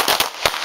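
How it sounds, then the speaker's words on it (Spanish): Sharp, loud pistol shots crack close by during a shooting drill, with three quick reports in under a second. "¡Vamos! Disparo."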